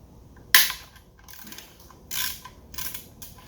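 A ratchet or wrench loosens a bolt on the timing cover of a BMW N20 turbo engine, with a sharp metallic click followed by a few brief bursts of ratcheting, close up and alone.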